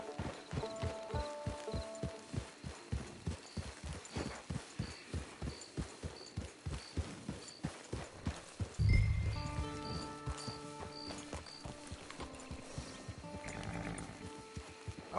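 Horse hooves clip-clop in a steady, even rhythm inside a video game, close and clear, keeping on throughout with a brief low thump midway and some light game ambience and tonal sounds behind.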